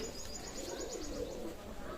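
A pair of Teddy pigeons coo softly and repeatedly, low warbling calls mixed with faint chirps, fairly quiet and close with no voices over them.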